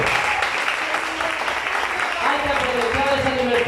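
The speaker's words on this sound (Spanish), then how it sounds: "fuerte los aplausos para Cristo" Applause breaks out in a church congregation during a sermon, a dense, steady wash of clapping that continues loudly throughout, with faint tonal voices or music coming in underneath partway through.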